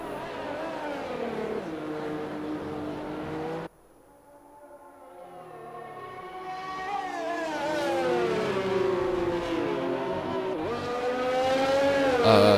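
Race cars in a racing video game set at the Canada circuit drone with rising and falling engine whines, a brief cut near the start, then several engines building in pitch and volume as they accelerate.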